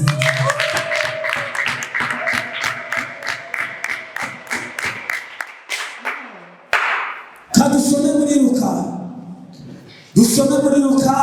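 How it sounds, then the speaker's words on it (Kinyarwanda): A church congregation claps in a quick, rhythmic run of sharp hand claps that gradually fade, after which loud crowd noise and voices break in abruptly near the end. "Komera Imana amashyi."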